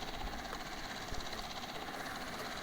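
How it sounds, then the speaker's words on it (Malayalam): A helicopter flies high overhead in the Indian Bike Driving 3D mobile game, giving a steady, dense rotor and engine drone that never lets up, with no talk. "ഇത്ര ഉയരത്തിൽ പറക്കത്തോളം ഹെലികോപ്റ്റർ"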